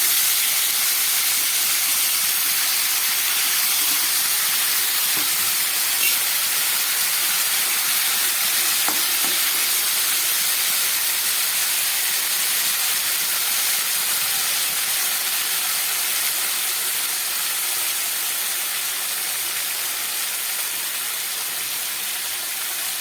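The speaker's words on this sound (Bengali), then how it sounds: "এবার আমি সবজিগুলো এর মধ্যে দিয়ে দেবো। মাছ আর সবজি সব একসঙ্গেই দিয়ে দেবো।" Vegetables and rohu fish go into hot oil tempered with spices and green chillies for a Bengali rui macher chorchori, giving a steady, loud, close sizzling hiss that holds evenly throughout without talk.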